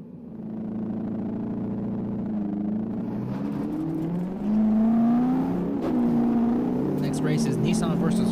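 Race cars at a Wacky Wednesday event at Langley Speedway roar by with engines whining and building in pitch as they pass, while a commentator talks excitedly over them.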